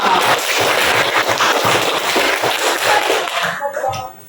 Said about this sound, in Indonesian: mari kita beri tepukan yang meriah untuk kelompok pintar